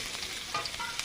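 Onions and chilli sizzle and crackle steadily in hot oil, a close, continuous frying hiss with small pops, cooked for a dish of fish with tomato.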